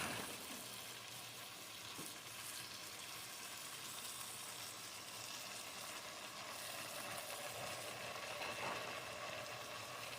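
Jamaican-style oxtail sauce simmers and cooks down in a pot, giving a faint, steady bubbling sizzle that runs evenly throughout with no talking.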